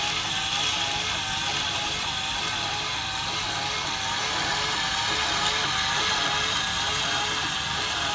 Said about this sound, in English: the only sound you can hear is the pumping up the milk to put it into the cup